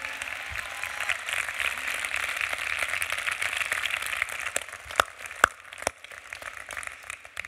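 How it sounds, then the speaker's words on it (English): An event audience applauds the organizers with steady, moderately loud clapping from many hands that thins toward the end into a few sharp, separate claps. "can we please give a big round of applause for all the organizers who helped to make this event possible?"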